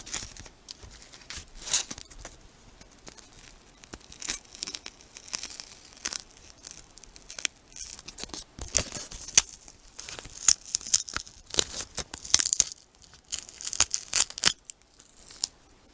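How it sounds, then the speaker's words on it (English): Tape peels off a Cold Steel Voyager knife in a series of close, crisp tearing and crinkling bursts. The strips come away unevenly, loudest toward the end, with quiet pauses between them and no voices. "So I'm going to go ahead and take the tape off."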